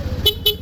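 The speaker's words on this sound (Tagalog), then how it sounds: "sa busina ni sir, kinabit natin PIA auto style horn, dual horn setup" Dual PIA auto style horn fitted to a Honda Navi motorcycle, giving a few quick close, loud toots in a rapid pattern.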